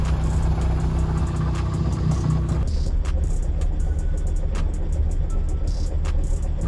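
A Ford Focus ST with a fully gutted interior rumbles at low speed as it drives onto a scale, a steady close engine drone that eases back after a few seconds, with faint clicks over it.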